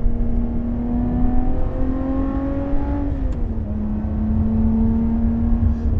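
Lotus Evora 400 sports car driving, its engine a steady close drone with one gear change or shift in pitch midway, then settling into a constant hum, with no talk over it.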